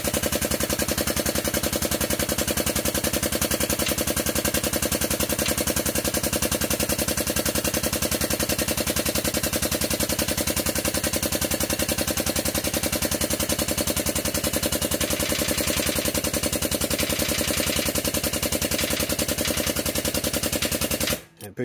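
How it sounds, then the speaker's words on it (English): Pittsburgh 8-ton long ram air-over-hydraulic round bottom jack running on compressed air in a garage, giving a steady, rapid mechanical buzzing rattle that continues without a break for about twenty seconds before cutting off abruptly. "talking about the Pittsburgh 8-ton long ram air over hydraulic round bottom jack. So, hook this thing up to some air"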